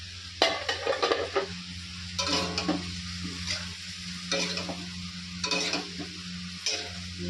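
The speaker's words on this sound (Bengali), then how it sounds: "আর এখানে আমি মাংসটা বসিয়ে দিয়েছি" Meat being cooked and stirred in a pan in a home kitchen, a steady sizzle with repeated scraping stirs at close range, no talking.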